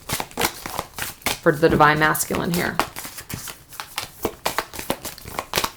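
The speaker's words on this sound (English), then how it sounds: "It's really weird only shuffling a few cards." Tarot cards being shuffled by hand, a rapid papery riffling and soft taps repeating throughout, heard close under a woman's steady speech.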